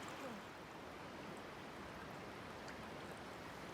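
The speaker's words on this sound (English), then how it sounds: "I've never seen an underground river." An underground river flows through a cave, a steady, soft broadband rush of water that continues evenly throughout with no voices.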